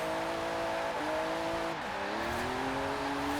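A rear-wheel-drive car with drift suspension and race-spec parts runs downhill in Forza Horizon 4. The loud, steady engine drones near, with pitch dipping through two gear changes and then climbing again.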